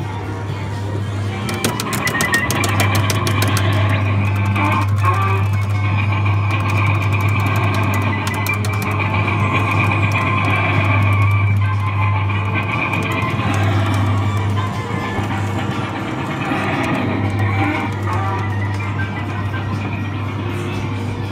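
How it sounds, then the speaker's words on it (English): A Zamperla Happy Cup kiddie ride from the 2000s runs at a Blackpool amusement arcade, giving a steady loud mechanical hum with a strong low drone throughout, amid busy arcade clatter and chatter. "that was a happy cup kiddie ride by Zamperla, sighted at Funland Amusements in Blackpool"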